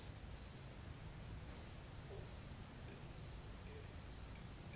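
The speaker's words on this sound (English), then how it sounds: "I'm trying to get rid of all the background noise, the crickets and the locusts and all that" Crickets and locusts give a constant, faint, high-pitched buzz at night, steady and unbroken throughout with no other sounds over it.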